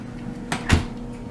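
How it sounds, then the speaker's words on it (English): A newly installed, white-painted custom door swings shut into its freshly built frame, fitted with a strip so it can close; two short knocks land close by, the second a firmer thud as it meets the frame. "I put the strip right here so the door can close."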